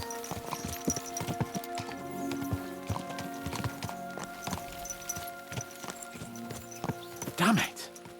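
Horses clip-clopping in the medieval video game Kingdom Come Deliverance II, steady hoofbeats under a sustained musical score, with a brief louder burst near the end.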